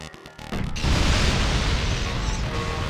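Frag grenade blast in the video game Vanquish: a short mechanical clatter, then a sudden loud explosion swelling into a sustained, rumbling roar.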